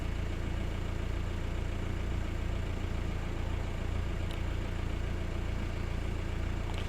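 Ford Galaxy TDi diesel engine, one with a no-start and cutting-out fault, idling in a steady, unbroken low rumble that stays loud and close throughout with no voices.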